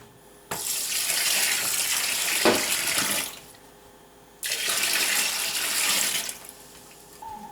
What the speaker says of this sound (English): all the water is going through a filter.